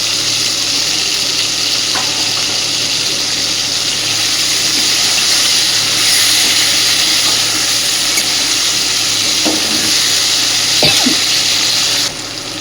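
Potato, tomato, green chilli and crushed nuts fry in a pan with a steady, loud sizzle that holds throughout, broken by a few faint clicks of stirring.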